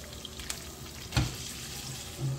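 Tofu dropped into hot oil in a pan, a soft steady sizzle with a few faint clicks and a brief louder crackle partway through.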